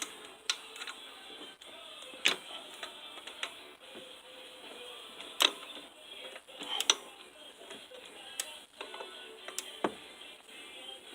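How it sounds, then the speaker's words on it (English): Hand ratchet loosening alternator bolts in a tight engine bay: repeated sharp metallic clicks and ticks in irregular bursts, close and crisp over a faint background hum. "That ratchet's designed to flex like that for increased leverage."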